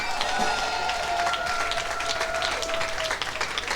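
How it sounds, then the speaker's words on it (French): A church congregation claps and cheers loudly in praise, a continuous wash of applause and crowd noise with a sustained musical tone running beneath, filling the room without pause. "Est-ce que vous pouvez acclamer fort pour le Seigneur?"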